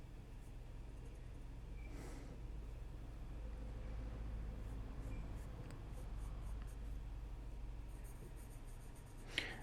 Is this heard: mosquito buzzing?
no